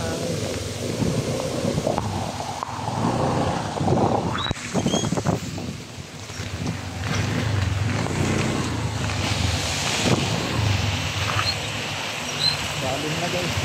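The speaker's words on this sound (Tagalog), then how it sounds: "malakas ang hangin" Strong wind roars in a steady broadband rush through the whole stretch, buffeting the microphone with gusts that swell and ease, while people speak in Filipino underneath.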